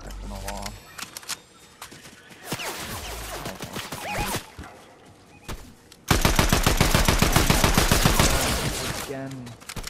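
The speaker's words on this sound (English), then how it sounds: "Oh, I'm being shot at!" Rapid automatic gunfire in the video game Fortnite: scattered shots early on give way to a loud, sustained stream of closely spaced rounds in the second half, with a player's voice talking over parts of it.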